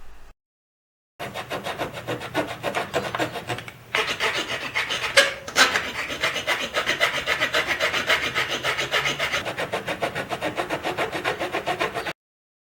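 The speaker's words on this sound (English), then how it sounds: "The next step is to saw into the brass exactly down the middle." A hand saw cutting into a brass piece, rhythmic back-and-forth rasping strokes, close and steady, with a short pause early on before the sawing resumes at an even pace.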